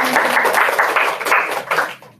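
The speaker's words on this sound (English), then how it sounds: "Round of applause for everyone." A small audience claps in a brief burst of applause at a wellness session, dense and fairly loud for about two seconds before tapering off.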